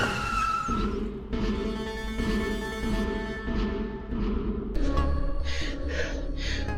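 A car brakes hard and skids to a stop, tires squealing over a steady engine rumble, with no talk.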